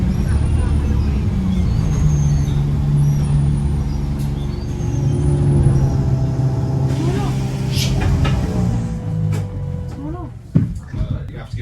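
A passenger bus that has lost oil pressure rolls up to a roadside stop in the middle of nowhere. A steady, loud low engine rumble fills the whole stretch and ends with a few sharp knocks as it comes to a halt.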